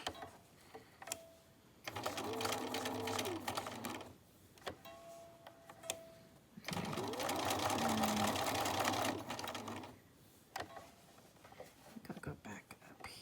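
A sewing machine runs zigzag and then straight stitch on scrap fabric patches, two sustained whirring bursts of several seconds each, separated by quieter pauses with light handling clicks.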